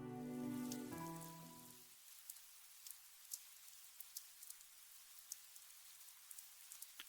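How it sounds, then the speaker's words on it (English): Rain sound effect in the Fate/Stay Night visual novel, a soft, steady patter of raindrops with scattered sharper drips, faint and continuous, following a fading tonal music chord at the start. "I wake up to the sound of the rain."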